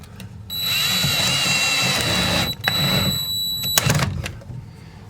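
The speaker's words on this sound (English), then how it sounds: "I'm gonna take me a drywall screw, come in here under the layout, and there's a hole in this bracket right here." A drywall screw being driven with a power drill into a bracket under a model railroad layout, two whirring bursts of a few seconds each, close and loud, followed by brief clatter.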